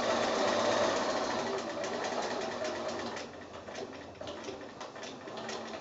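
A sewing machine with a 1/4 inch foot stitches quilt binding in a continuous close whirring hum with a fast needle rhythm, slowing slightly toward the end as it does a short back stitch.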